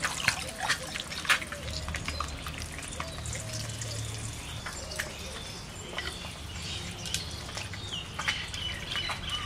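Water poured from a container into a cooking pot while making a Bengali egg sour curry with nalte greens, a steady close trickle and splash lasting throughout with small clinks and no talk.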